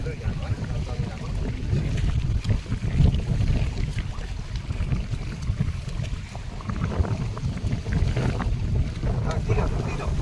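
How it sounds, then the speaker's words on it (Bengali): Strong wind roars and buffets the microphone in a constant low rumble over a river in the Sundarbans, with indistinct voices faintly underneath. "নদীতে নদীতে কিন্তু প্রচণ্ড হাওয়া হচ্ছে"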